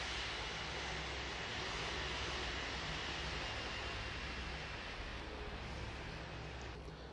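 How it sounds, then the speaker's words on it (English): Engines of an Airbus A350 in the FSX flight simulator game spooling down, a steady broadband jet roar that stays loud and even before easing slightly near the end, with no voices. "All I'll do now is just shut down these engines"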